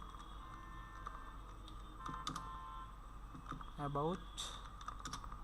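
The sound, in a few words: typing a prompt into ChatGPT on a computer keyboard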